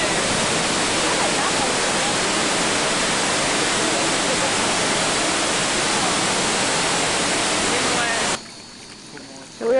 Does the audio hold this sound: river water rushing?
yes